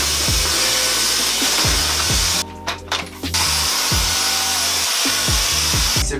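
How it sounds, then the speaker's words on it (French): A vacuum cleaner runs continuously as a room is cleaned, giving a loud, steady whine and roar. The motor pitch dips briefly midway, and there are repeated bumps and thumps of the nozzle against the floor. "Donc déjà je vais passer l'aspirateur."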